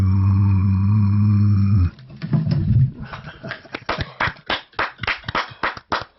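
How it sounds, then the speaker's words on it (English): After a sustained held musical chord fades, an audience breaks into applause at a folk music gathering, with uneven, distinct hand claps that thin into separate sharp claps toward the end. "Thank you for that thunderous applause"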